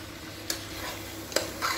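Tomatoes and green chillies with a pinch of salt sauté in oil in a pressure cooker for mutton biryani, a soft steady sizzle broken by two quick clicks of a stirring spoon.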